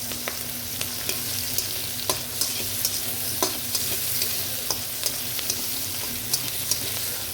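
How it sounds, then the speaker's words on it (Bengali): Onions fry in oil in a pan for a Bengali rohu fish curry, giving a steady close sizzle broken by regular clacks of a spatula stirring them, with no talking. "পেঁয়াজটি এখন ভালো করে ভাজবো"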